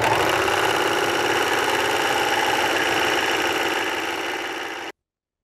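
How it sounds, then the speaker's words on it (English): Baby Lock Celebrate serger stitching a narrow rolled hem runs as a steady, close, loud whirring buzz for about five seconds, then stops abruptly, with no talking. "So now we're ready to start serging with our narrow rolled hem."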